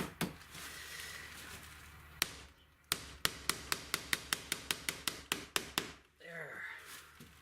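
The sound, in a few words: hammer blows driving a nail into window trim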